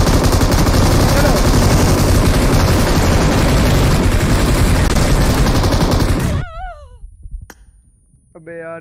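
M249 machine gun firing in a video game, a dense, loud, unbroken stream of automatic shots for about six seconds that then cuts off, leaving a quieter stretch with faint voices and game sounds.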